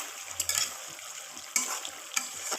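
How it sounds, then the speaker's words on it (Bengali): Drumstick (moringa) vegetable curry with potato and tomato being stirred in a pan, soft frying sizzle with a few sharp scraping clinks of the spoon against the pan. "আমি এখন ডাঁটাটা নেড়ে চেড়ে নিব।"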